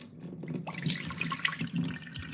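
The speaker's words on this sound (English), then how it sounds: "I'm going over to the sink. And then basically I'm straining." Water splashes and gurgles at a kitchen sink as boiled potatoes are strained by hand, a close, continuous pouring and rushing sound.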